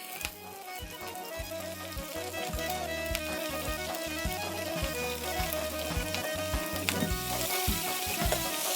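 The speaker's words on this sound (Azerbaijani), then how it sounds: "bunları belə bir maşa vasitəsilə göndəririk birbaşa tavaya ki, yaxşıca burada qızarsın" Broccoli frying in a hot pan, a continuous crackling sizzle with scattered pops, steady and close, with a faint low hum underneath and no talking.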